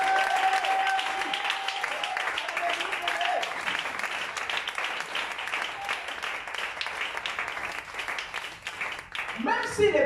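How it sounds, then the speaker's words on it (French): A church congregation applauding during a French-language sermon, sustained loud clapping throughout with a voice speaking over it. "Acclame Jésus ce matin"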